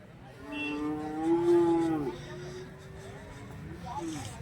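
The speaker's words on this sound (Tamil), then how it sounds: "எருமைங்க பாருங்கள் எவ்வளோ இருக்குன்ட்டு எக்கச்சக்கமாக கட்டி வச்சுருக்காங்க" A buffalo lows with a long, deep moo at a crowded cattle market in Bagalur near Hosur, fairly close and loud, with fainter animal sounds and background murmur around it.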